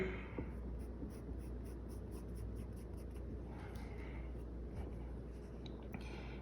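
A pencil scratches across paper in short strokes during a drawing lesson, close and quiet, with no talking.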